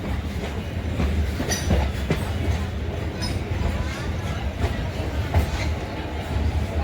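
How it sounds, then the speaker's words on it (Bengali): Local train passing on a winter night, a continuous rolling rumble with clickety-clack wheel rhythm and faint squeals, heard close from aboard or beside the track while a voice talks over it. "আর এই ট্রেনটা যাচ্ছে"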